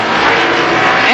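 Race cars scream past on the Columbus Motor Speedway oval during a 1990 Superstar Shootout, a short burst of loud, continuous engine roar with a rising pitch sweep at the end.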